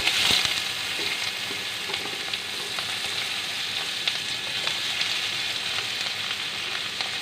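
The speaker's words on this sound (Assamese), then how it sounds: "আগতে মাছ ভজা তেলতে মই এতিয়া পিঁয়াজ দিম।" Sliced onions frying in oil left over from frying fish, a steady close hiss and crackle of sizzling with faint stirring clicks, no voices.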